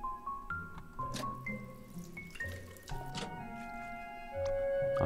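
Toilet water in the pixel-art game A Bird Story: soft splashing and running water rise toward the end under gentle chiming melody notes, fairly quiet overall.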